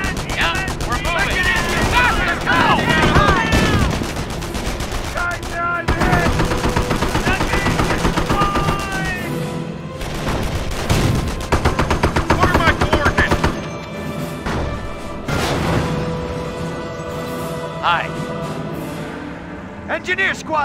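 Machine gun bursts and scattered gunfire ring out during a Company of Heroes battle in Normandy near Montebourg, rattling steadily for about twenty seconds among engine rumble, explosions and radio-style unit voice callouts.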